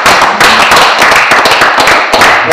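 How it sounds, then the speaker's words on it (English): Loud, dense applause from a crowd, steady hand claps filling the whole stretch without a break. "A round of applause for him."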